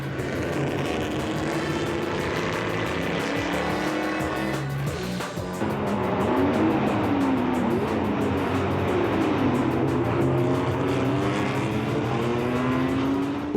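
An AC Cobra and a small Lotus Elan dueling in a road-rally race: loud engines roar continuously with rising and falling pitch sweeps as the cars accelerate and pass, with no voices.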